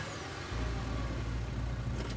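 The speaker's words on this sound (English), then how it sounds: "Squeeze into Duke's tiny two-seater truck, tucking your legs on either side of the gear shift." A tiny two-seater truck's engine starts up in Scarlet Hollow and settles into a steady, close, low rumble that holds for the rest of the moment, with no voices.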